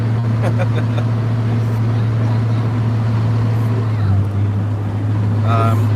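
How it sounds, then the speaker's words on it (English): Interior of a 60-year-old car cruising at night, with a loud steady low engine drone, wind rush and faint rattles throughout, while someone talks over the noise. "rattling and all the other junk that happens in a 60-year-old car."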